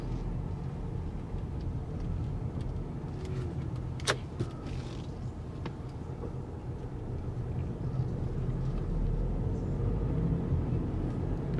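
Cabin sound of a 2012 Volkswagen Passat TDI SE diesel on the move: a steady low engine and road drone with a faint click or two, heard from inside the car with no talk.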